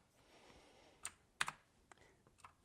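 Keystrokes on a VicTsing mechanical LED keyboard with blue switches: a few sharp, scattered clicks near and fairly quiet, with two louder presses standing out over faint background hiss.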